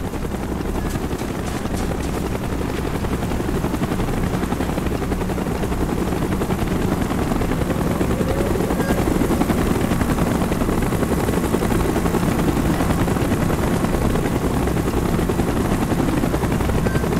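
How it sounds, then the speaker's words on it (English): Helicopter rotor thumping steadily throughout a Call of Duty Black Ops military mission, loud and continuous with a dense low rumble and faint battle noise beneath. "Chopper's inbound. Move it."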